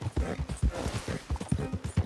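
Horse hooves clip-clop in Red Dead Redemption 2, a steady, fairly loud trot of close, evenly spaced thuds on the ground without any talking.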